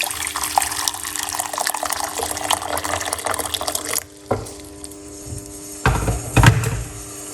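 Hot water pours from a stream into a medium pot on the stove, a steady splashing gush for several seconds that stops abruptly, followed by a few clanks and a short second pour.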